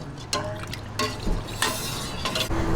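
A spoon scrapes and stirs in a pot of simmering coconut milk, with soft clinks at intervals over a low bubbling hiss.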